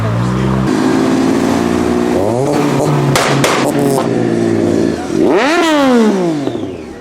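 Modified 3.5-litre car engine revving through a loud exhaust, holding a throaty idle, then blipping up and down with a sharp rising and falling rev near the end, close and loud, with a voice briefly in the background.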